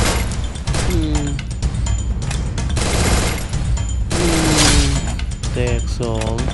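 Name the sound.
gunfire in the video game Free Fire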